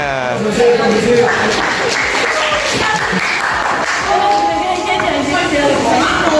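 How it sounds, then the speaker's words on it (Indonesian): A classroom of high school students applauds with steady clapping that fills the room, mixed with voices talking over it. "Oke, tepuk tangan semuanya."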